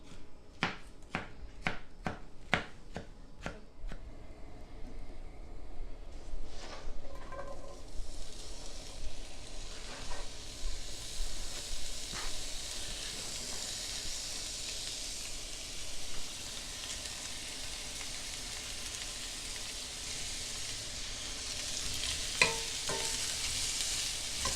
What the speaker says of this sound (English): while the onions and peppers are sauteing and going to soften up just a little bit